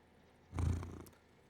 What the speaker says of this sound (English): Cat's currently in front of me.